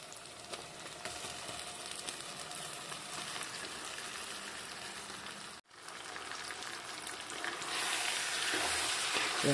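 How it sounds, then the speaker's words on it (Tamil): Marinated chicken and onions fry in a clay pot with a soft, constant sizzle that grows a little louder toward the end, broken once by a brief gap. "இப்போ இது கூட நம்ம ஊற வச்சிருக்கிற சிக்கனை சேர்த்துக்கலாம்."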